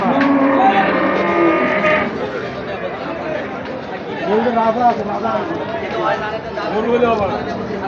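Cattle moo repeatedly, several low drawn-out calls at close range, mixed with people talking and general bustle of a livestock market throughout.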